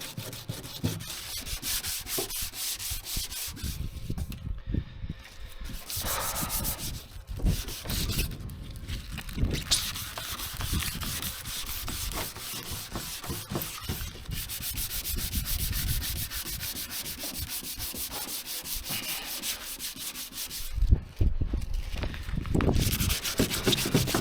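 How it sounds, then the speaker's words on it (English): Bondo body filler being sanded on Scania 143H truck parts during a V8 restoration, a continuous, loud, close scratchy rubbing with short pauses and no speech. "good sanding makes a big difference"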